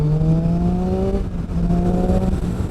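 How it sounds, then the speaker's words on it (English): A 2013 Triumph Street Triple 675 R revs through the mid-range, its intake howl rising in pitch, dipping briefly, then climbing again, loud and close. "Let's get one more for the intake howl"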